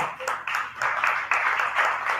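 Audience applause at an event, steady clapping from a modest crowd lasting a couple of seconds, close and fairly even.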